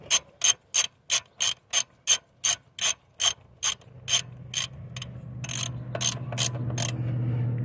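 A ratchet clicks in quick, evenly spaced bursts while tightening an alternator connection on a 1989 Oldsmobile 98. Around a dozen sharp, close strokes come first, then the clicks slow and fade under a rising low hum.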